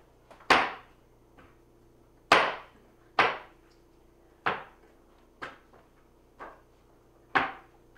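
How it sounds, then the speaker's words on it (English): Meatballs being smashed with a hammer, seven or eight sharp separate thuds at irregular intervals with quiet pauses between, close and fairly loud. "we are going to take this hammer and smash each one of these wrecking balls individually"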